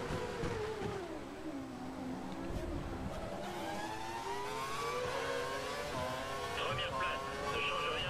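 A McLaren Formula 1 car in the F1 2012 racing game at the German Grand Prix, a steady high engine whine that shifts in pitch as it passes close by, under someone commentating in French.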